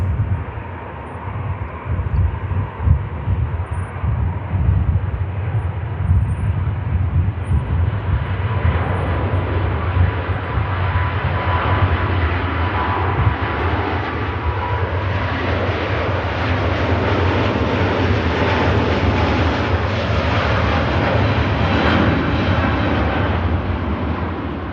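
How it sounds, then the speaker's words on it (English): Qatar Airways airliner at Manchester Airport spooling its engines up for departure, a loud sustained roar building steadily and filling the whole stretch without talk. "Awesome Qatar. Spools up."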